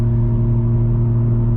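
Steady low exhaust drone inside a 2021 Toyota Supra with a muffler delete and downpipe cruising at 80 mph on the freeway in normal mode, a constant booming hum with strong low tones.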